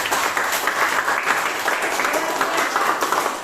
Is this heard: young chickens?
no